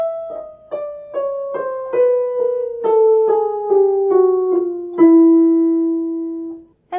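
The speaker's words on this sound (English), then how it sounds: "when you go down the chromatic scale, on the piano it sounds like this" Piano notes step down a descending chromatic scale, about a dozen evenly paced keys falling by half steps, the last note held and fading, played alone.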